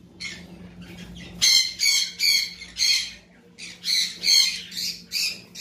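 Red factor pet birds for sale give a run of loud, harsh squawks in close, rapid bursts, each call rising and breaking off in an uneven rhythm, with a low steady hum beneath.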